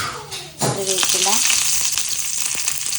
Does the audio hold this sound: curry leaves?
yes